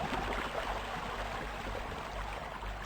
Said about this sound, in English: let's jump up in behind this waterfall